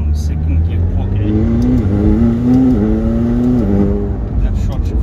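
Tuned 900 hp McLaren 720S accelerating hard from second gear, loud and close, the engine note rising in steps as gears are short-shifted several times in quick succession.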